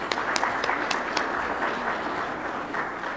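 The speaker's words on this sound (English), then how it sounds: "Let's clap for her." Church congregation applauding a singer after a song: a moderate, continuous wash of clapping from a gathered crowd, with a few sharper individual claps standing out at the start.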